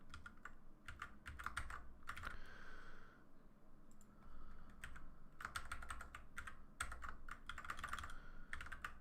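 Fingers type on a computer keyboard in irregular bursts of close, crisp key clicks with brief pauses between runs, no talking.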